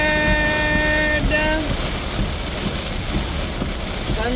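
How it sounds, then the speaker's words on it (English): Heavy rain from a thunderstorm pounds steadily on a car while driving, a dense constant wash of noise with a sustained tone at the start and a low road rumble underneath. "Thunderstorm."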